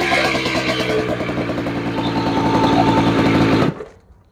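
Vintage 60cc two-stroke scooter engine revving steadily under way, a loud buzzing drone held for almost four seconds before it cuts off abruptly into near silence.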